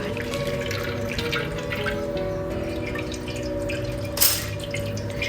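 Pressed grated coconut releases coconut milk in a steady patter of close drips and trickles over a low background hum, with one brief splashy burst near the end.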